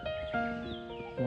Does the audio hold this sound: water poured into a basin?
no